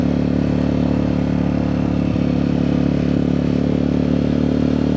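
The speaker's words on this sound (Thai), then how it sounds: "เหมือนกับพาทุกคนขี่รถเนาะเบิ่งเส้นทางชิวๆไปน้ำกันทุกคน" A steady, loud engine drone and wind rumble from a motorcycle riding along a road beside the Mekong River, constant and close without pauses or talk.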